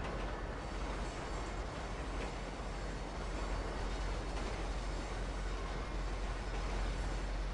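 A train running, a faint, steady low rumble of rolling rail cars that carries on evenly with no pause throughout.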